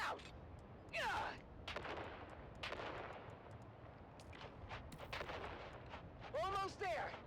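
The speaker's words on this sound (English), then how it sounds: "We grenade and move. 3, 2, grenades out!" Grenade blasts and gunfire in the video game Dune Awakening, several sharp booming bursts near the start and end with rumbling combat noise between, voices calling out over the action.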